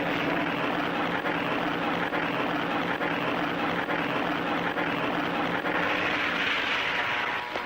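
A propeller airplane engine drones steadily in a Tintin cartoon, a loud continuous roar with a rough buzzing texture holding constant throughout without pauses.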